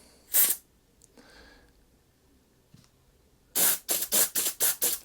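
Short sharp bursts of carburetor cleaner spray through the jets of an Allett Kensington cylinder mower carb, first one puff and then a quick run of about six close, loud squirts.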